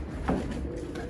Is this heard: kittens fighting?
no